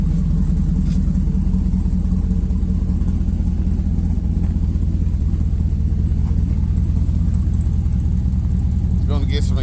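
A Chevy S10 step-side street truck with a swapped LQ4 V8 idles with a steady, deep, lumpy rumble close by, running continuously throughout.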